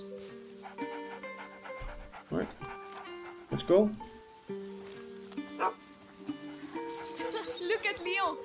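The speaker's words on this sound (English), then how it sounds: "Hey there, dog." A dog in the video game A Plague Tale: Innocence pants and gives a few short barks and yips close by, heard under a speaking voice and over a steady musical background.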